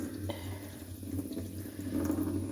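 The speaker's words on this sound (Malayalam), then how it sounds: "ഇനി ഈ വെള്ളം ഊറ്റിക്കളഞ്ഞിട്ട് നമുക്ക് അടുപ്പത്ത് വെച്ച്" Water pours and trickles steadily as it is drained off washed homemade butter in a kitchen, forming a continuous moderate flow with faint background hum.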